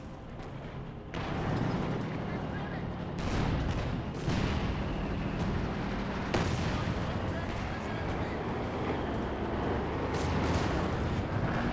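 Mortar and artillery fire from a Company of Heroes 2 match rumbles steadily, with several heavy booms and blasts rising out of a dense, continuous battlefield roar.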